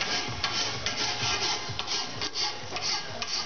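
A metal driveline part is being worked with a hand file, with rapid, regular rasping strokes repeating roughly twice a second, close and fairly quiet, with no voices.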